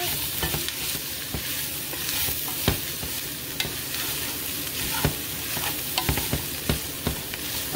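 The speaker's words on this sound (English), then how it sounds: "Give that a stir." Browned meat frying in a pan for shepherd's pie while being stirred, a steady close sizzle broken by sharp spoon scrapes and clacks at irregular intervals, with no talking.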